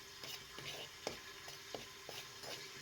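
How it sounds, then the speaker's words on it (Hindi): Besan and maida dry-roasting in a pan over a low flame, with a spoon scraping steadily in short strokes and a few sharper taps against the metal over a soft, continuous sizzle. "सबसे पहले एक पैन के अंदर बेसन को डाल दें, साथ में मैदे को भी डालकर लो फ्लेम पर इन दोनों चीज़ों को अच्छे तरीके से आपने भून लेना है।"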